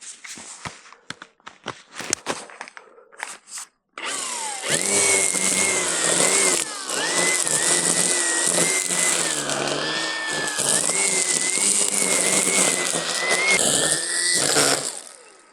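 A Milwaukee M18 Quik-Lok battery string trimmer starts after a few seconds of scattered clicks and footsteps, then runs steadily and loudly close by for about ten seconds, its motor pitch wavering slightly as the line cuts, before cutting off at the end.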